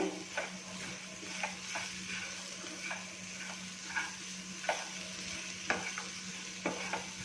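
Fried cashews being stirred into a vermicelli pulao in a pan: a quiet sizzle under repeated scraping strokes of a spoon at a fairly regular pace.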